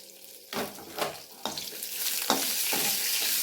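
Coconut, coriander and garlic fried in oil over a medium flame, spatula strikes landing in a loose rhythm as a hissing sizzle builds and grows louder.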